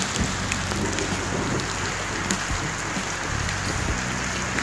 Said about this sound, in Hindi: ऐसी बारिश गर्मियों में होना बहुत नेमत की बात है